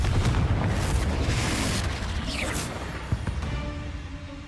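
Fiery Confringo spell blasts in Hogwarts Legacy, a dense booming rumble with a sweeping whoosh and crackling debris amid continuous in-game combat noise.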